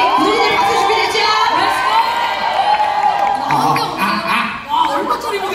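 A fan-meeting audience cheers, shouts and whoops throughout for a stage performance, a loud, dense crowd roar with high excited voices and some talk mixed in.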